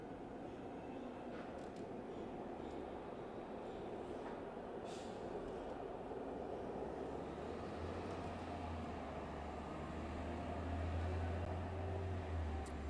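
A train rumbles past at a steady distance, a broad continuous roar with a low hum rising near the end, in a transit setting.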